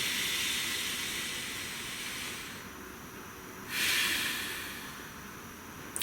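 Slow deep breathing, a long airy exhale followed by a swelling inhale, close and steady with no words spoken.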